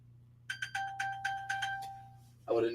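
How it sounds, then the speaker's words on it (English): A misplaced phone rings after being pinged to locate it, giving a quick series of about six bright electronic chimes at a steady pace over a low room hum, then a short burst of noise. "Some way or another, I think I can ping my phone"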